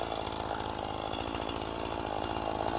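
A Husqvarna chainsaw runs at a steady high rev while cutting through branches, a loud continuous buzzing whine holding through the whole stretch with no pauses.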